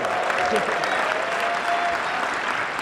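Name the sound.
audience clapping at PAX East panel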